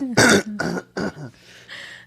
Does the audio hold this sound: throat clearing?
yes